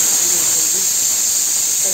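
A pressure cooker on a kitchen stove releases steam in a steady, loud, unbroken hiss that lasts the full two seconds with no pauses.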